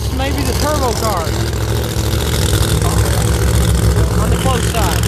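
A turbocharged Promod drag racing car idles with a steady, heavy low rumble at a qualifying event, and an announcer talks over the engine throughout.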